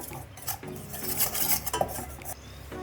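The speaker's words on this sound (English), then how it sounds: "now add the maida, roast it to the light brown" Maida flour is stirred and roasted in a pan, giving close scraping and clinking of a utensil against metal with short knocks and faint background hum.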